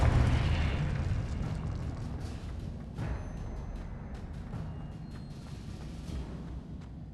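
A blasting fire spell explodes in a wizarding adventure game, opening with a loud boom that decays into a long rumbling tail, with a few fainter secondary bursts later.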